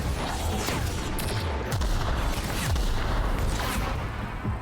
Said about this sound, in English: I forgot this gun had such a kickback.